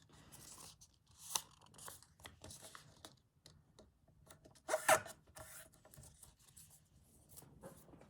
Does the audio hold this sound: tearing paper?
yes